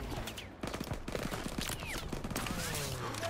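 Call of Duty WWII battle gunfire crackles in dense overlapping volleys with whistling ricochets and distant explosions, continuous and moderately loud behind faint voices.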